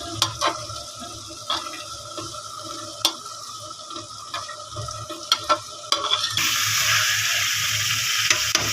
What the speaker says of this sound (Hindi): तो इसमें मैंने गोभी ऐड कर दी है और अच्छी तरह से मिक्स कर लिया।